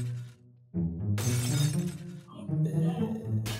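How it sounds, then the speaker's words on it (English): Glass shattering in the video game Garry's Mod as NPCs break through it near a white truck: a loud sudden crash with ringing debris, set among other game noise. "I didn't even know the NPCs could break the glass."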